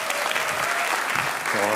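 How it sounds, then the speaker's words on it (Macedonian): Studio audience at a Macedonian stand-up comedy show breaks into steady, dense applause, a continuous wash of clapping that holds throughout and swells slightly near the end. "Спонтанен аплауз за Зоки, ве молам."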